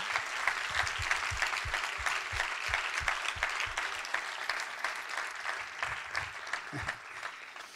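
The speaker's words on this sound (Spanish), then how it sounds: "Den un aplauso al Señor." Church congregation applauding during a Spanish-language sermon, a steady wash of many hands clapping at moderate distance with no talk over it.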